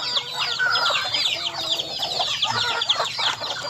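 Several chickens cluck and chatter continuously nearby, overlapping calls forming a busy farmyard chorus.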